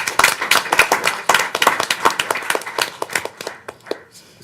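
Audience applause at a city council meeting, a dense burst of many hands clapping that stays steady and then thins out and fades toward the end.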